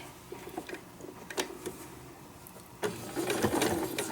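Sewing machine stay stitching a fabric sewing roll, quiet intermittent whirring that swells into a louder, denser run of stitching near the end.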